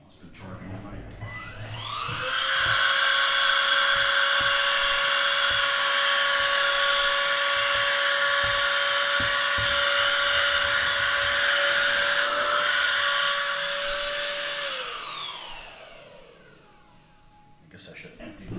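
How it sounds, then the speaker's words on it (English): A cordless handheld vacuum cleaner, fully charged and meant for car use, spins up into a steady, loud, high motor whine. It holds for about thirteen seconds, then winds down and stops. "Let's see if Mr. Vacuum Cleaner's doing okay."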